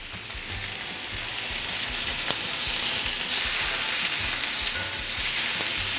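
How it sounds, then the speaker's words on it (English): Pork tenderloin fries in olive oil in a pan, producing a loud, steady, close sizzle with occasional pops and crackles throughout. "Ooh, listen to that sizzle."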